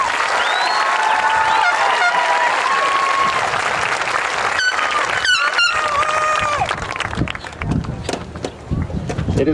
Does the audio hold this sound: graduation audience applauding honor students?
yes